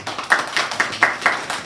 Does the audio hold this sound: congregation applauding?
yes